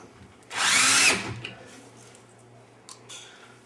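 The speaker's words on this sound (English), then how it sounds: "So I take one screw and put it in a hole." A power drill whirs loudly for about half a second while driving a screw into a door hinge, then stops, followed by faint clicks and handling noises.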